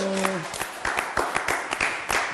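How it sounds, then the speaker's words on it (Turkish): An audience on a Turkish show breaks into applause after a brief sung note, with sharp, distinct claps building into a rhythmic patter close by. "Kocaman bir alkış."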